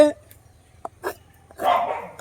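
A dog barks a few short times nearby during home cooking, with a brief louder burst of barking near the end over a low background hum.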